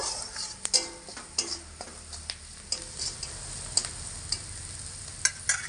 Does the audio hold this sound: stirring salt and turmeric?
yes